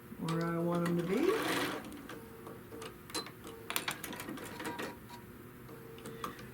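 Sewing machine stitching down the middle of quilt fabric, a close, steady mechanical whir lasting about a second, followed by quieter clicks and handling sounds as someone talks briefly.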